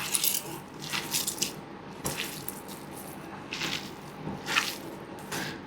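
Soft, wet squishing from fish cutlet mixture with ginger, green chilli and pepper being kneaded by hand, in steady irregular squelches close up with light slaps and no talking.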